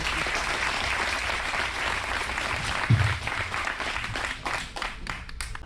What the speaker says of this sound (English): Give a big round of applause for Sydney.